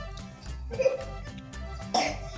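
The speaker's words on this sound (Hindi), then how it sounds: "देखो उसको कितनी खांसी हो रही है।" A child coughs repeatedly in short bursts, close by, with a steady low hum underneath and no talking.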